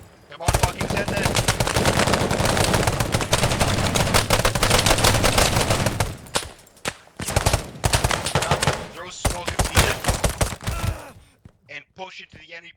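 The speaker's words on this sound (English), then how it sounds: "What are machine guns doing?" Sustained machine gun fire rattles in long, dense bursts during a military training exercise, loud and close, broken by short pauses and scattered shots, with shouted voices heard amid the gunfire.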